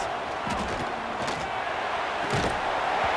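A stadium crowd roars steadily on a third-down defensive stand in the EA College Football 26 video game, a dense, loud, continuous wash of cheering with a few brief swells.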